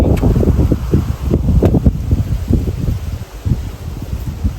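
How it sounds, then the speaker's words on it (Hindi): Wind buffets the microphone in continuous low rumbling gusts, loud and close, with rustling underneath, outdoors in rainy weather. "बारिश का मौसम बना हुआ है, हवा चल रही है"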